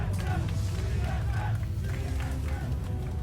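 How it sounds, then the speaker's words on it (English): A large esports arena crowd roars and chants "TSM" together in a big indoor space, a steady loud wall of voices with rhythmic swells. "You can hear the crowd. People always love chanting TSM."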